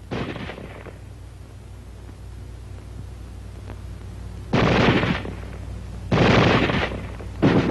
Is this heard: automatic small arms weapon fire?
yes